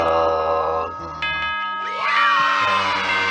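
Five Nights at Freddy's end-of-night chime, a bright bell tone that shifts into a cheering crowd of children, loud and clear with no talking over it.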